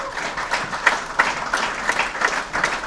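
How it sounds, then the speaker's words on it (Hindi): Audience applause at a Hindi network-marketing seminar, a steady burst of clapping from a moderate crowd that carries on at even loudness for a few seconds. "जोरदार तालियां दोनों के लिए।"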